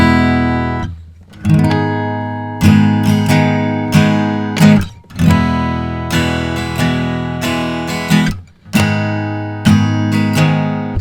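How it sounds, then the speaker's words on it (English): Chord progression in which the three chord stays as the diatonic minor chord, played as a sequence of sustained harmonic chords changing every second or so, loud and clear with no voices. "If the 3 chord in the song remains minor, if it remains the diatonic minor chord, it sounds like this."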